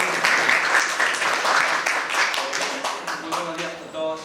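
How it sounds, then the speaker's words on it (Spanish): A small audience applauds at an academic history talk, a loud, dense burst of clapping that thins toward the end as a voice begins speaking. "Un pequeño aplauso"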